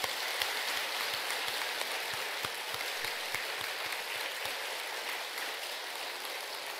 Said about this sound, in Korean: 스님에게 고맙다는 박수 한번 드립시다.